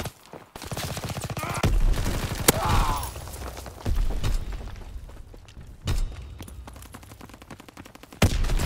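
Gunfire in the World War II shooter game Call of Duty: WWII, with rapid automatic bursts and single heavy shots, some booming impacts and pauses between volleys.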